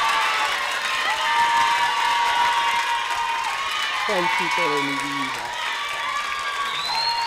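Audience at a Peruvian Saturday variety show birthday celebration applauds and cheers steadily as a guest enters, with a voice calling out over the crowd noise.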